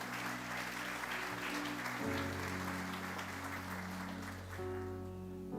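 A Sunday church congregation applauds steadily under sustained organ or keyboard chords, and the clapping fades slightly toward the end.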